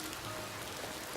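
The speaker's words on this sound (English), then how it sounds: "The sound of rain is so soothing, don't you think?" Rain in the video game Ova Magica hisses as a dense, steady patter across the whole stretch, with no voices.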